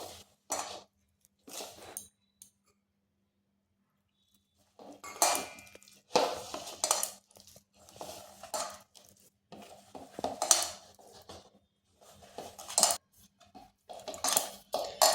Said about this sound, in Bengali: এরপর রুম টেম্পারেচারের জল নিয়ে আমি একটা ডো তৈরি করে নিচ্ছি